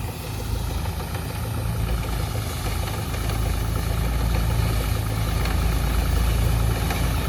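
A farm tractor engine idles nearby, a steady low, throbbing rumble that holds constant throughout, with no voices.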